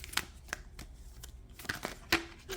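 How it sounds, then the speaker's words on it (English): Tarot cards riffled and shuffled by hand in a few quick, papery bursts with soft taps between them, close and fairly quiet, no voices. "Hopefully you can hear me shuffling."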